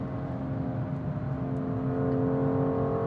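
A BMW M2 engine holds steady under constant throttle on a racetrack in fourth gear, a continuous loud drone with steady harmonic tones and no pauses, heard from inside the car with no talk.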